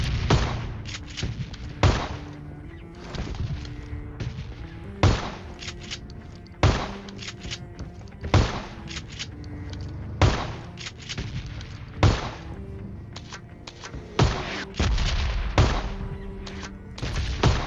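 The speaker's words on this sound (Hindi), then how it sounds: "मैंने बाप की शॉटगन समझ के भाई सारी की सारी एमओ पेल दी" Gunfire in a video game, a loud series of heavy booming shots about every one to two seconds, with a rumbling gun battle continuing between the blasts.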